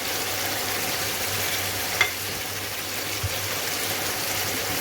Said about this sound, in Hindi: अनियन डाल दिया मैंने।